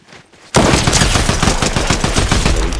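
Loud, dense gunfire in the Fortnite video game, a sharp burst breaking in after a half-second of quiet and then rattling on as rapid, overlapping shots to the end.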